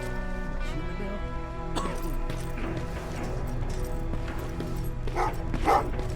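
Dogs bark and yip in the video game Terminator: Resistance, in a resistance shelter. Several sharp, uneven barks come close over a droning musical background, and a voice is heard at times.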